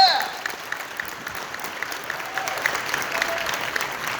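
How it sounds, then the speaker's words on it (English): A large crowd claps at the Midwest Fur Fest 2019 closing ceremony, a loud, sustained round of applause with scattered cheers and voices woven through it. "give yourselves a round of applause if this is your first year at Midwest Fur Fest"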